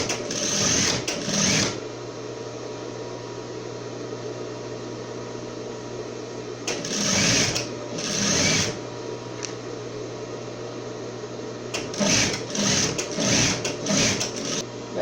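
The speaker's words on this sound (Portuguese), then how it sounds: "O elástico deve ser costurado assim, ó, bem na bordinha" Sewing machine stitching elastic along the edge of a halter swimsuit top, running in three bursts with short pauses between them over a low steady hum.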